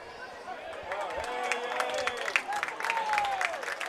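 A high school football crowd at a game cheers and shouts after a touchdown, a broad roar of many voices with rising whoops and clapping mixed in. A commentator talks over it.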